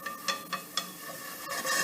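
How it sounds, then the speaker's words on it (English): Flour roux being whisked in a pan for seafood mac and cheese, with quick scraping strokes of the whisk at a regular rhythm over a soft, low sizzle. "Keep your whisk moving and absorb all of that"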